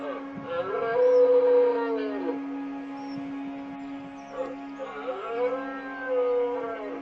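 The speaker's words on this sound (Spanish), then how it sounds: "El final del verano viene marcado por la berrea del venado." Red deer stags bellow during the autumn rut, long moaning roars rising and falling in two drawn-out calls over a steady low hum, carrying clearly across open ground.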